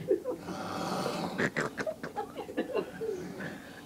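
A man snoring with raspy, wheezing breaths mixed with what sounds like stifled laughter, moderately close, no clear talking.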